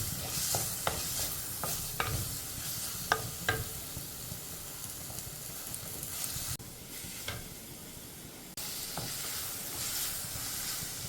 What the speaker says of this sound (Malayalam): കുറച്ച് കറിവേപ്പില, നമ്മളിത് പയ്യെ ഒന്ന് വഴറ്റുക.